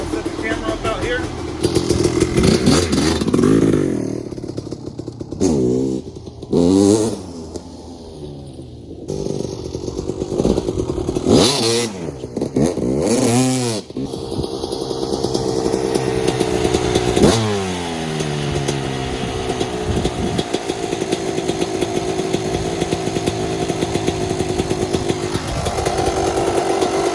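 A Husqvarna WR250 two-stroke motorcycle warms up, a loud buzzing engine with repeated sharp revs in the first half before settling into a steady, raspy idle nearby.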